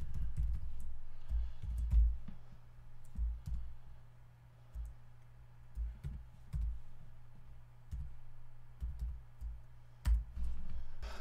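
Typing on a computer keyboard while writing R code for arithmetic, with scattered, irregular key clicks that come in short bursts and pauses, quiet and close.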